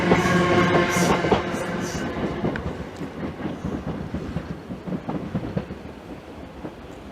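A London Overground train passes at Bethnal Green with a loud rumble and clickety-clack of wheels over rail joints, fading steadily as it moves away.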